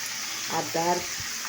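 Water splashes into a sizzling pan of curry as the spiced base is being fried down, a brief pour over steady background hiss, with a voice speaking faintly at the same moment.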